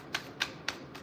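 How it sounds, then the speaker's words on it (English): Tarot cards are shuffled in three crisp, evenly spaced riffling bursts, quiet and close, with no voices. "One more shuffle."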